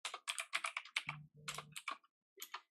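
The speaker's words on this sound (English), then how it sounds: "as we're typing this data in" Rapid clicks from typing on a computer keyboard come in quick close bursts with short pauses, fairly quiet and with no talking.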